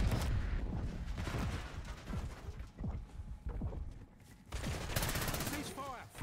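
Weapons fire in Call of Duty, a rocket launcher among it: dense bursts of close gunfire with sharp cracks and heavy blasts, briefly thinning near the middle before another loud volley.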